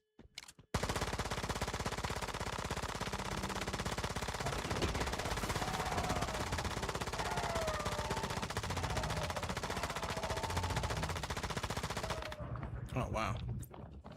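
Sustained rapid automatic fire from a P90 submachine gun in the survival shooter Once Human, one long loud continuous burst lasting over ten seconds, then a short pause with a few scattered shots.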